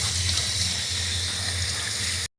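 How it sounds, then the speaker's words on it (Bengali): Tap water runs steadily into a strainer of mung dal being rinsed in a kitchen sink, a constant close hiss and splash that cuts off sharply at the end. "এই যে ডালটা এবার এই যে ছাকনার মধ্যে আমরা ধুয়ে নেবো মুগপুলি পিঠা করার জন্য"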